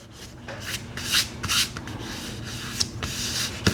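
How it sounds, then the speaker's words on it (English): Rubbing dried glue off a wooden cutting template by hand, a series of close dry scraping strokes in uneven bursts, with a couple of small knocks near the end. "I'm going to rub that just a little bit and see if I can rub that glue off."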